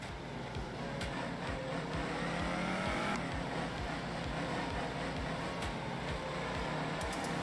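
A rally car engine in the racing game Art of Rally, modelled on old front-wheel group rally cars, drones steadily and loudly under full throttle with a rising pitch, constant throughout with no talk.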